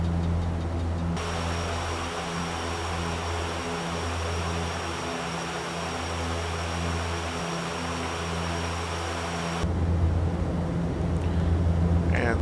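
Landing gear lowering on a FlyJSim Dash-8 Q400 Canadian turboprop airliner in X-Plane 11: a broad rushing airflow swells in over the steady droning propeller hum and holds for several seconds before the cabin tone shifts again.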